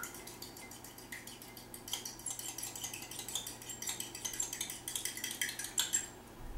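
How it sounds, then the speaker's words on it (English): A fork whisks two eggs in a bowl while making meat loaf, giving a fast, steady rattle of clicks and scrapes against the dish that grows busier toward the end, close by and with no talking. "I've got 2 eggs here that I'm just going to whisk up a little, break it up a little with a fork"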